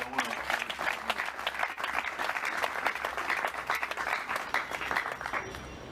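A crowd at a gathering gives Bangonyo's delegation dense, sustained applause, steady and loud throughout with no pause.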